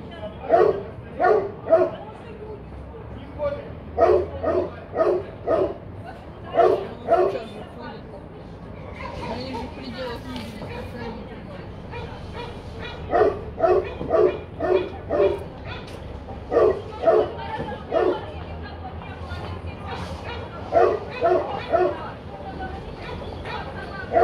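Dogs bark in repeated short bursts, yipping and whimpering loudly and close by, with quieter whining stretches between the volleys.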